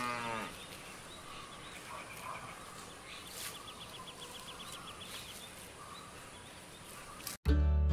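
Cows moo on a farm: a low, drawn-out bellow opens, then faint calls carry over a soft outdoor background with a few chirping birds before a sudden abrupt noise at the very end.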